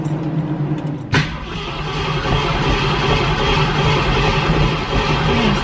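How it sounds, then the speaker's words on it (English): A 1968 Ford Mustang that has not been started in a while cranks and catches, a sharp onset followed by a loud, steady engine roar close to the microphone. "I haven't started this car in a bit."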